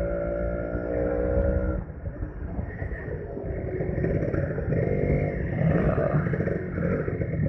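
A Kawasaki Ninja 150 RR, a two-stroke motorcycle bought in 2014, runs with a steady, close, buzzing engine drone that dips briefly and then carries on with rattly, clattering texture, with no talking.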